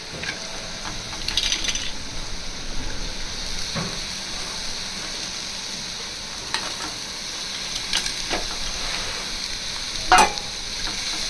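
Bitter gourd sautéing with onions in a pan for pavakkai poriyal, with continuous sizzling and scraping stir strokes, plus a few sharp utensil clinks near the end.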